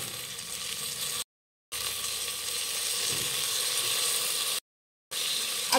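Brinjal pieces for vangi bhat sizzle in a hot pan, a continuous close frying hiss interrupted by two short silent gaps.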